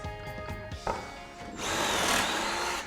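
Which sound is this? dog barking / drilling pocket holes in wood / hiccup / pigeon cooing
drilling pocket holes in wood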